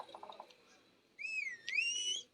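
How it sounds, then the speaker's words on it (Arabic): A character in the video game PUBG Mobile whistles a short rising-and-falling tune of about a second, after a few quiet clicks against faint background noise. "طبعا هو بيصفر"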